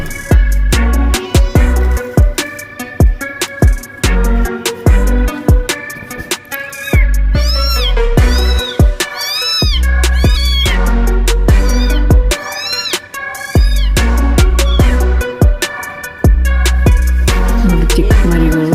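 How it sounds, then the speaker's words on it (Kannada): Small kittens mew in short, rising and falling cries, set against loud, rhythmic background music with a heavy beat that runs throughout. "ಚಿಕ್ಕ ಮರಿಗಳು ಇದು ನೋಡಿ ಕಿರಿಸ್ತಾ ಇತ್ತು."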